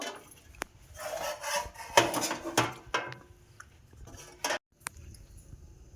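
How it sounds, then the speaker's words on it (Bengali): A lid comes off a metal pot of fruit cake baked on a gas stove. There are a few clinks and scrapes of metal, a short rattle and then a sharp clink, all close and alone with no talk. "এবার আমি ঢাকনা খুলে দেখব।"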